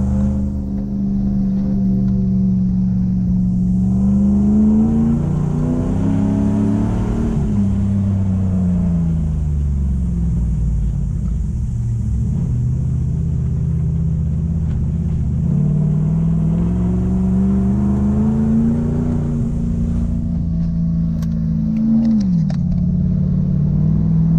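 An engine revs and drops back as a Toyota Hilux automatic shifts gears off-road, with loud rising and falling drone and a distinct dip at each change. No one speaks.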